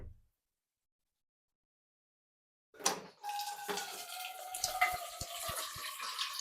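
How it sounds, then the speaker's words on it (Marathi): Water pours into vada pav batter in a bowl after a few seconds of silence, a close, steady splashing trickle with small drips and knocks near the end. "यात पाणी घे थोडस."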